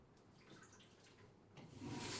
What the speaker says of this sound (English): Then empty the contents into the toilet and flush.